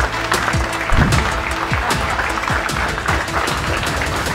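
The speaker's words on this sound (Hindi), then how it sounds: "जोरदार तालियों के साथ स्वागत करिए मोहम्मद कैफ का।" An audience at a televised cricket talk show applauds to welcome Mohammad Kaif, producing loud, dense clapping with some sharp individual claps standing out, continuous across the few seconds without talk.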